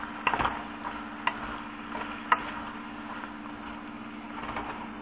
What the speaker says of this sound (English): I am going to add my vegetables so that they can be tossed in the sauce and warmed